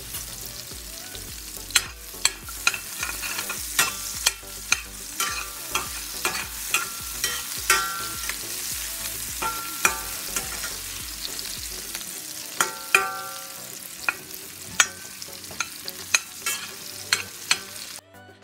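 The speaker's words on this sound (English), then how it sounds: "I'm also adding some leftover daikon radish to the pan for the saute" Sliced winged beans and leftover daikon radish sautéing in a pan, a steady close sizzle with frequent sharp clicks and scrapes of stirring throughout, the frying hiss dropping away near the end.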